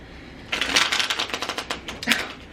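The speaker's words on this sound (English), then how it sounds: "That was such a bad shuffle." A deck of cards is riffled and shuffled up close, a quick rapid flutter of papery clicks lasting about two seconds.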